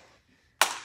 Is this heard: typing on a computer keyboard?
no